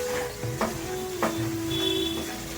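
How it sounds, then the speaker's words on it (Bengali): A stale roti barfi mixture with powdered sugar is stirred in a pan as it dries, giving soft scraping strokes at a steady pace over a constant low hum, close and moderately loud. "আবার এইভাবেই নেড়ে যাবে।"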